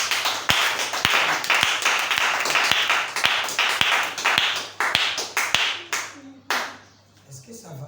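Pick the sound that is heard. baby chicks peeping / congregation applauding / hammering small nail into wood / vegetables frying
congregation applauding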